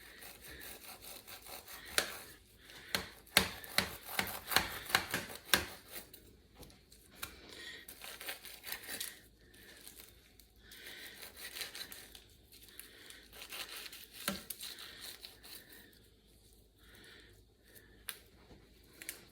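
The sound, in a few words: knife trimming fat from a turkey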